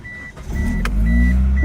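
A 1995 Hyundai car with about 40,000 miles starts up in winter cold, a brief cranking sound settling into a steady low idle that grows louder and holds, with faint intermittent tones above it.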